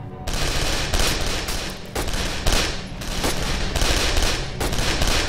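Sustained automatic gunfire in the horror shooter Condemned, loud, close and nearly continuous, with dense repeated bursts and brief dips between volleys.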